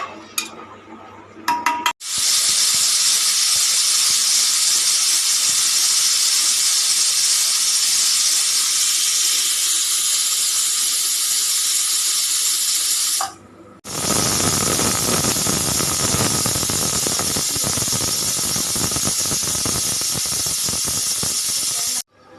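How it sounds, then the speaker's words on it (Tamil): Loud, sustained high-pitched steam whistle from a pressure cooker cooking mutton curry, cutting out briefly near the end before resuming with a hissing, sputtering tone. "நாலு விசில் வந்தோடனே ஆஃப் பண்ணிட்டேங்க."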